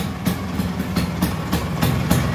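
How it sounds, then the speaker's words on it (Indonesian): A restored 1970 Vespa Granturismo scooter fitted with an aftermarket exhaust runs nearby with a steady low rumble and evenly spaced rhythmic pulses, no one speaking over it. "Knalpotnya bukan knalpot bawaannya, tapi mantep sih jadinya"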